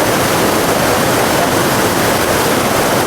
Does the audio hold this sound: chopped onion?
no